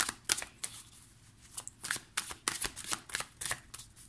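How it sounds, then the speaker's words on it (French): Oracle cards being shuffled by hand, a close and steady run of crisp riffling flutters and soft slaps repeating throughout, with no voice over them. "On va prendre 4 cartes."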